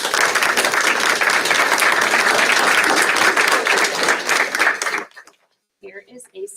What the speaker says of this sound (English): So let's give Lydia a round of applause.